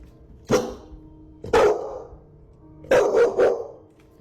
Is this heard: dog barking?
yes